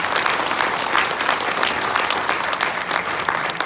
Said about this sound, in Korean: 우리 모두를 위해서 한번 박수를 치면서 축하했으면 좋겠습니다.